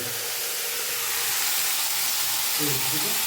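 Chopped greens (shak) steam and sizzle in a pan at home, a steady close hiss of frying that holds unbroken, with a few faint crackles toward the end.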